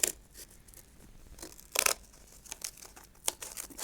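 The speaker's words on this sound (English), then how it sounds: "I'm going to go ahead and trim the bottom with my scissors so that he's nice and well framed." Scissors trimming the bottom edge of paper artwork mounted on card, with crisp intermittent snips and crinkling paper rustles in short irregular bursts, close and fairly quiet.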